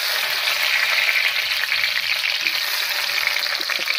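Salted ash gourd pieces frying in a hot pan for a village-style chicken curry, a loud, dense, continuous sizzle holding steady throughout, no talking.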